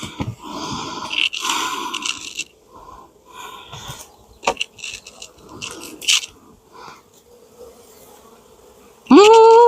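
Honey bees buzzing close by at a hive in irregular bursts, with scraping and rustling movements between them and a louder sustained drone rising at the end.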